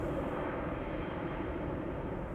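A 25-year-old Icelandair Boeing 767-300 departs Amsterdam Schiphol bound for Reykjavik, its jet engines a loud, steady, broad roar throughout.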